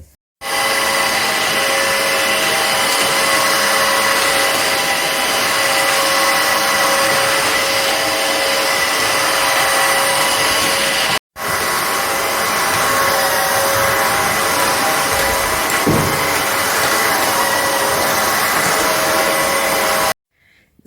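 A cordless wet floor vacuum cleaner runs on a floor covered in dog hair, a loud, steady close-up whine and whoosh that cuts out briefly midway, restarts, and then stops near the end.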